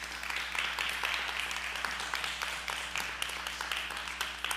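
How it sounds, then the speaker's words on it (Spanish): A church congregation gives a loud, sustained round of applause, with steady, dense clapping throughout. "¿Por qué no le dan un aplauso al Señor?"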